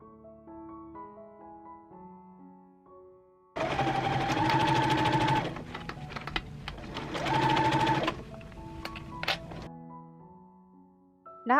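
A sewing machine stitches dress lining fabric for a strapless dress in two loud, steady runs of rapid whirring, with quiet music playing before, between and after them.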